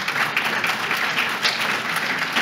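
Audience applauding at a public round-table event on training and recruitment in Lyon, a loud, even patter of many hands clapping without pause.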